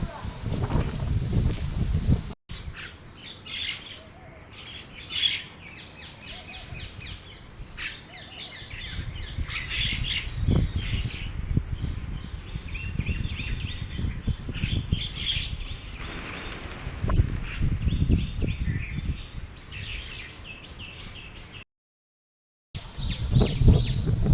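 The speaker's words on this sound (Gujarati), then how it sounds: "મારા આંગણે સતત પક્ષીઓ ચડી રહ્યા છે." Birds gather and chirp in a home courtyard just after rain stops, with scattered tweets and calls near and far under wind noise and someone talking.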